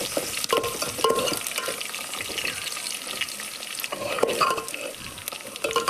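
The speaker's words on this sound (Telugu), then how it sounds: "వేగిన తర్వాత ఆనియన్స్ ముక్కలు కట్ చేసి పెట్టుకుంటాం కదండి, అవి కూడా వేసేసి కొంచెం బాగా వేయించుకోవాలి." Chopped onions fry in oil with biryani spices, making a bright sizzle broken by repeated scraping and stirring clatter from a utensil in the pan, fairly close.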